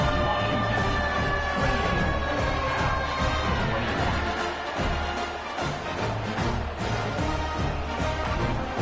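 Football stadium crowd cheering and roaring after a score, a dense, loud, continuous wash of voices that holds steady throughout.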